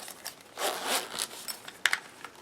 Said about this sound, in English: this has quite a robust zipper on it as well